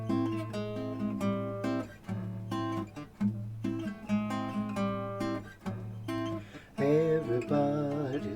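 A song played on keys, with a bouncy syncopated chord groove and bass line repeating phrase after phrase, loud and solo, swelling into a busier run near the end.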